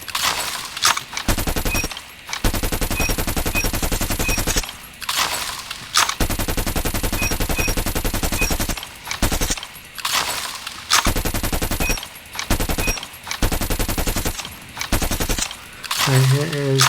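Rapid automatic gunfire in Call of Duty Mobile, loud sustained bursts with short pauses between them, firing repeatedly with a voice talking at times.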